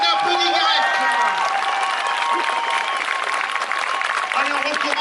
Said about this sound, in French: On applaudit Guirec.